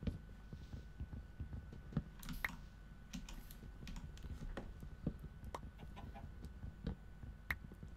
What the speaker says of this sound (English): I could hear a chicken.